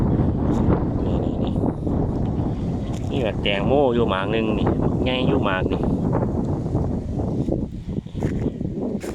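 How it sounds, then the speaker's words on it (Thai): Strong wind gusts across a dry-season melon garden, roaring steadily throughout as loud broadband noise buffeting the microphone, with someone talking over it. "นี้เสียงลมดังขนาดเลย"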